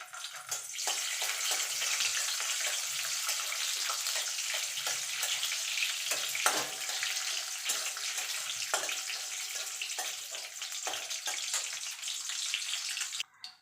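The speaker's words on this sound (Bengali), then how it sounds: "তেলটা গরম হয়ে গেছে, কাজু কিশমিশটা ভেজে তুলে নেব।" Cashews and raisins fry in hot oil, giving a continuous bright hissing sizzle at moderate level with small crackles throughout, no voices over it.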